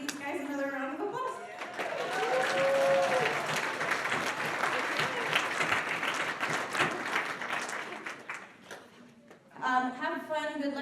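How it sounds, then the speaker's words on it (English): Audience applause at an evening event fills most of the stretch, loud and sustained with cheering voices mixed in, then fades as a voice speaks over it near the end. "give these guys another round of applause"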